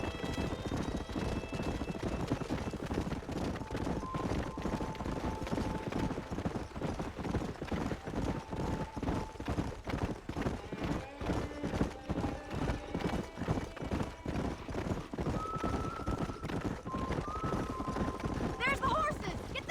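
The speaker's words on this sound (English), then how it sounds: "There's the horses!" Horses in the Red Dead Redemption video game trot steadily, a continuous rapid clip-clop of hooves running throughout, with occasional neighs and voices talking over the galloping.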